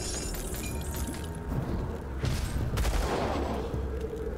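Dynamite blast in the video game Grim Dawn, a sudden loud burst around the middle that rolls into crackling, rumbling debris, set amid ongoing combat noise with no talking.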